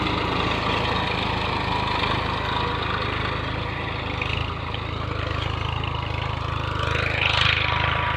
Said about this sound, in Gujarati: આ બાજુ ટ્રેક્ટર હેડે છે.